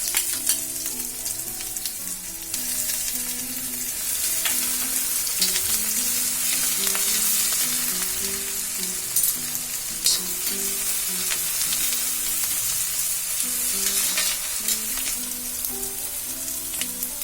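Crushed ginger and garlic frying with curry leaves in oil for a Kerala chicken dish, a close, steady crackling sizzle that keeps going throughout, with occasional stirring scrapes.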